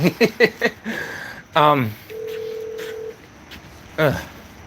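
A few short electronic tones, then a single steady beep, with a person talking in between; sounds like a telephone line rather than a bell.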